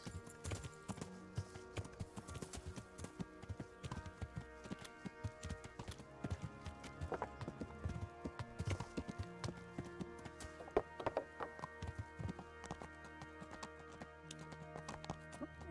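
Horse hooves in the video game Kingdom Come: Deliverance clip-clop in a steady trotting rhythm over a busy bed of music and ambient noise, fairly faint and continuous.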